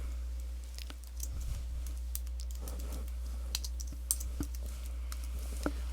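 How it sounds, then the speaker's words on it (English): Rapid, uneven keystrokes on a computer keyboard, clicking along steadily with a few sharper key taps standing out, close up over a constant low hum and with no talking. "I'm just going to type in my logo"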